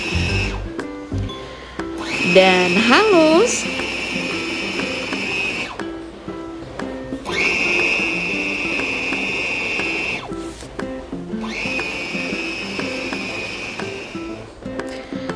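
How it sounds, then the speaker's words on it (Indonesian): A blender grinds meat with ice loudly in repeated bursts separated by brief pauses, its motor whining high with chunky rattling during the first pulse; a few words are spoken. "kita akan blender sedikit demi sedikit hingga daging seluruhnya hancur"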